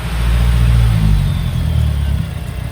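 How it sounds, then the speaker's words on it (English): A 2010 Mazdaspeed3 engine revved lightly on the gas, a loud close low rumble that rises and then settles back toward idle, with no one speaking. "Hit the gas a little bit. Not hard, don't make it loud."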